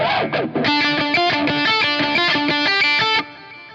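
Lap steel guitar picks out notes over a single chord, a steady stream of sustained, gliding, harmonically rich tones with an effects-colored edge, loud and close, ending abruptly near the close.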